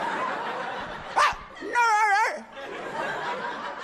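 A comedian on stage at a comedy club imitates a dog barking, a short yelp followed by a longer warbling bark-like vocal, set against crowd murmur and laughter.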